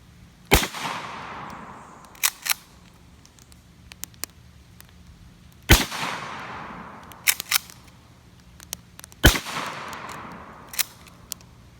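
Three loud Mossberg 510 mini shotgun blasts fired at a target with 2.5 inch shells, spaced several seconds apart, each a sharp crack with a trailing outdoor echo, plus a few smaller clicks and knocks in between.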